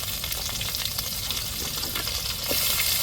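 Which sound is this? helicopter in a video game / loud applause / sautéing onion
sautéing onion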